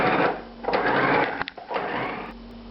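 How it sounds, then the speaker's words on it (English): Electric grinder chopping cooked egg yolk, onion and bacon for a stuffed butternut squash filling, a close whirring motor buzz in short bursts with a brief pause in the middle. "Now we grind this up, but not too finely."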